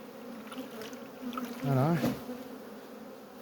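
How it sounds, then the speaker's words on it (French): Black honeybees buzz at an open hive during feeding, a steady swarm drone with one bee swelling loudly past close by midway, while someone speaks briefly over it. "Là il y a beaucoup d'abeilles."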